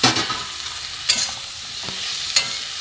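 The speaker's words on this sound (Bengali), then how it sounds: "সবজির সাথে একটু ভালো করে কষিয়ে নেব, পটল আলুর সাথে" Pointed gourd and potatoes frying with spices in a pan, a continuous close sizzle broken by three sharp scraping stirs spaced about a second apart, with no voices.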